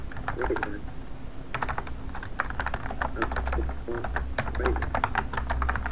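Rapid, uneven clicks of a computer keyboard as a Java program is typed, the bursts of keystrokes near and fairly loud with short pauses between runs, a low steady hum underneath and speech mixed in.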